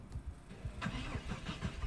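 A car engine in the Project Zomboid survival game, a vehicle with a bad engine, cranking and catching in a rough, uneven sputter that keeps turning over, moderately quiet, with no talk.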